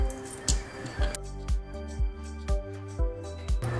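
Red velvet cake batter is poured and dolloped into greased 8-inch round and square pans, giving a regular series of soft, wet plops and taps about twice a second, close and fairly quiet.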